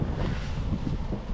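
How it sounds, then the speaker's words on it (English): Morning wind gusts on a trail run buffet the microphone with a low, rumbling roar throughout, steady and fairly loud. "it's windy this morning"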